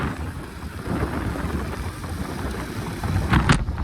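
A motorbike rides off from an office on a trip toward Lakhani in Banaskantha, its engine a steady, close, rumbling drone blended with rushing wind noise throughout, with no talking.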